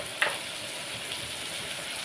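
Prawns sizzle in a hot pan while a home curry is cooked, a soft continuous hiss of frying with one brief clink near the start.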